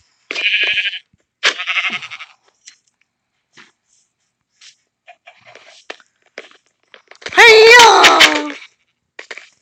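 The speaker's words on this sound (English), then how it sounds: "How is this donkey surviving?" A Minecraft donkey on a Skyblock server lets out a loud, harmonic bray near the end, preceded by shorter scattered in-game sounds and sparse quiet bits.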